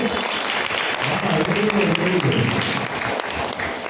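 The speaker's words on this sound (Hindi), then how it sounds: "आप नेहा बहन को बोले दीदी के लिए जोरदार तालियां हो जाए" At a talk on stress-free living, an audience claps loudly for a woman being encouraged on stage. Dense applause runs the whole time, mixed with voices or other sound in the room.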